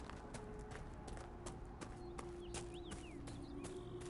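Horse hooves clip-clop in a steady, quick rhythm as a mount is ridden in the video game Dragon Age: Inquisition, faint and even under a soft game soundscape with a few bird chirps.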